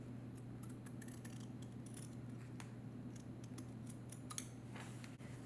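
Scissors trim fabric on a sewing pouch with a series of faint, sharp snips and clicks at close range over a low steady hum, and no talking.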